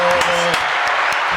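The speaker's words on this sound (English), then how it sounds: "let's give a round of applause to Diego." An audience applauds for Diego during an MMA coach interview, a brief, loud burst of clapping with a voice heard briefly at the start.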